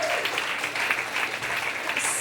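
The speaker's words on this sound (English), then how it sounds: "Can you just give yourselves an applause?" Audience applause from a live talk fills the room as loud, continuous, dense clapping that stays steady from start to finish.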